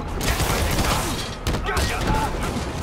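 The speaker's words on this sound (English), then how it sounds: "Officers are engaged with the demons. Shots fired." Sustained game gunfire from a police shootout with demons in Hell's Kitchen in Marvel's Spider-Man, a dense rattling fusillade running through the whole stretch with muffled background chatter and effects.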